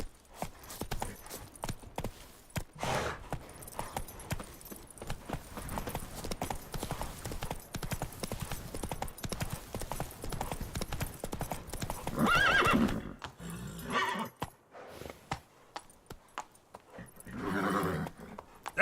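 Roach the horse in The Witcher 3: Wild Hunt gallops with steady clip-clop hoofbeats and snorting breaths, then whinnies loudly near the end over in-game ambience.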